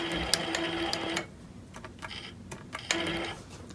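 A longarm quilting machine takes a few tying-off stitches in short bursts of rapid needle clatter, with quiet handling noises between them.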